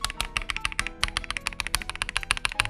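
Rapid, steady keystrokes on a Lychee G80 mechanical keyboard fitted with KTT Rose switches, each press a crisp, fairly deep clack close to the mic, played alone with no talking.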